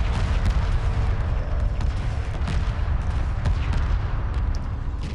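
Heavy weapon fire in the space strategy game Homeworld Remastered, with a dense, continuous roar of booming blasts and crackling bursts that stays loud and rumbling throughout, with no gaps.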